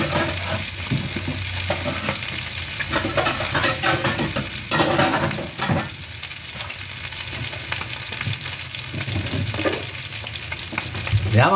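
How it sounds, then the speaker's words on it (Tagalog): Cooking oil frying and spattering steadily in a pan, a dense, continuous sizzle with occasional sharper pops and faint stirring clatter, close and fairly loud throughout. "takpan natin para hindi tumalsik ang mantika"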